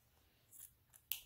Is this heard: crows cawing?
no